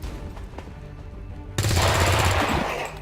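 A single gunshot in XCOM 2: War of the Chosen comes as a sudden loud burst of rapid fire halfway through, after a quieter stretch of ambient game sound.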